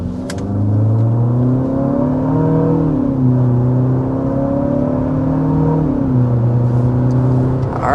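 A 2025 Infiniti QX60 accelerating up to 55 mph, heard from inside the cabin as a loud steady engine drone and road whir with pitch rising through several gear shifts.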